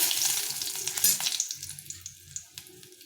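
Dried red chillies fry in a little hot oil in a pan. A loud, crackling sizzle fades gradually as a spatula taps and scrapes in uneven strokes.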